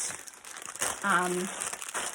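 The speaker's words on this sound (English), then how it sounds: "some crinkle paper in yellow, blue, and pink" Crinkle paper in yellow, blue and pink being handled, giving a short burst of crisp crumpling and rustling at close range, with a brief vocal sound in the middle.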